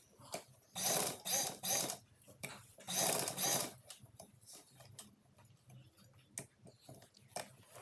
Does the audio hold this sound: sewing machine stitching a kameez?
yes